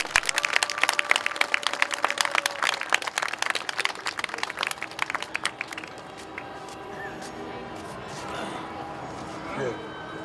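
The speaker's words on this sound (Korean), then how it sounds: "우리 성호 아버님을 힘찬 박수로 모시겠습니다" A crowd at an outdoor rally applauds to welcome a bereaved father to the stage, with dense steady clapping for about six seconds that then thins and fades into murmuring and ambient noise.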